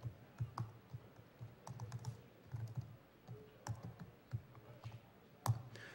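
Soft, quick keystrokes tap on a computer keyboard in uneven bursts, faint and close, during a talk at a security conference while someone works on a PDF analysis.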